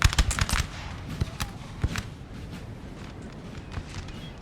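Musket volleys crackle in a Crimean War battle in the Napoleon Total War video game, with a quick cluster of sharp shots at the start and then scattered, quieter pops over a low battlefield din.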